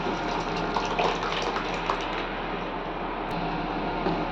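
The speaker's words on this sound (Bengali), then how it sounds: "আমি সেদ্ধ করা ডাল দিয়ে দিচ্ছি।" Boiled lentils (dal) pour into a pan of spiced greens with a steady, wet gushing sound that runs without break for several seconds, close and fairly quiet, with no talking.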